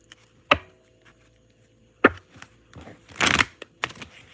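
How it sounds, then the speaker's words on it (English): Several quick papery riffles and snaps of tarot cards being shuffled, with short bursts spaced apart and a longer flurry near the end; no talking. "how about if we shuffle properly?"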